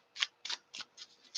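Tarot cards are shuffled in a quiet room, giving five soft, crisp riffling bursts at a steady rhythm, close by and alone.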